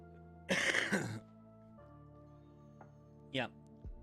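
A man clears his throat and gives a harsh cough, one loud burst near the start followed by two short, fainter coughs, close to the microphone over a steady low hum.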